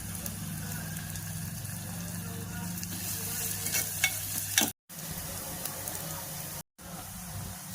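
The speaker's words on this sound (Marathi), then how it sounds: "आणि मग छान लाल होईपर्यंत परतून घेते." Onions sautéing in a pan until reddish, a steady soft sizzle with occasional stirring scrapes, continuous and fairly quiet, broken by two brief cuts to silence.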